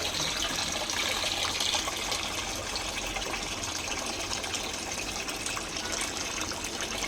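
Water runs steadily from a tap into a container, a continuous close gushing stream that holds at an even level throughout with no talking.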